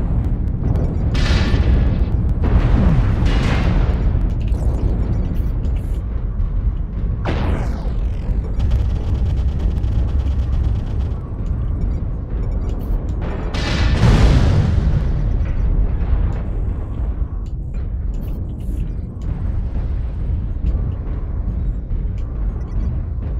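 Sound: incoming missile explosions in MechWarrior Online video game

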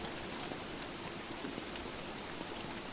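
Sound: rain falling in the video game Don't Starve

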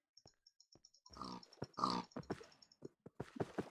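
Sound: pig grunting in Minecraft video game

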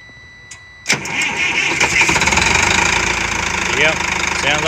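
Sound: old diesel truck engine starting and idling

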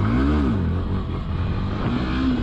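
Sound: Yamaha FZS motorcycle accelerating

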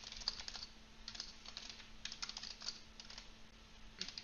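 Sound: typing a message on a computer keyboard

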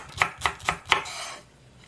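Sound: knife chopping green onion

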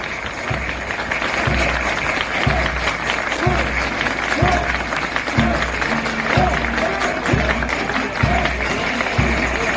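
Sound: applause

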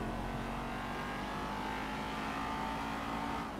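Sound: Rapid GT car engine in video game GTA 5 Online

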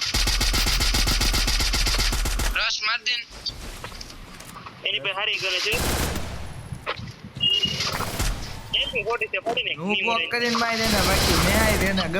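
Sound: gunfire in the video game Free Fire

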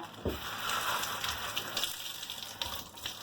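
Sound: wet crumpled baking parchment being wrung out

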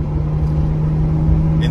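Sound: 2021 Porsche 911 Turbo S sport exhaust heard from inside cabin

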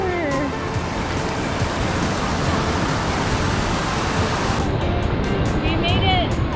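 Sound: ocean waves at Copacabana Beach

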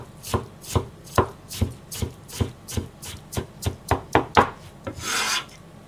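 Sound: knife mincing ginger on cutting board

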